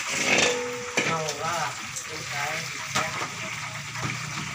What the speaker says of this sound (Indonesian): Lagi ngerebus ayam sayur buat di sambal goreng.